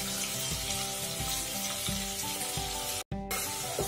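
Tomatoes and green chillies sizzle and fry steadily in a pan, a continuous close crackle with occasional stirring scrapes and a brief dropout near the end.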